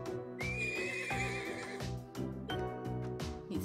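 A horse in the video game Trails of Cold Steel, said to come from the Nord Highlands, whinnies loudly over a game music track, with hooves clip-clopping.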